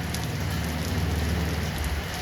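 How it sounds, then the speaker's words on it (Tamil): Heavy rain falls steadily on a rooftop garden as a loud, dense, even hiss of drops with no break and no voices. "காலையில் கொஞ்ச நேரம் மழை இல்லாமல் இருந்து இப்போ பார்த்தீங்களா நல்லா மழை"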